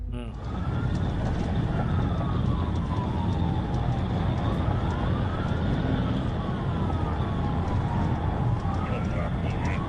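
A police car siren wails in a high-speed chase, its rising and falling sweeps repeating steadily and loudly throughout over constant engine and road noise.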